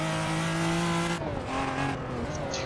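Drift car with a 2JZ engine in the video game Assetto Corsa, loud and close, with a sustained high revving engine whine and shifting pitch as the car slides, plus tire squeal, and no speech.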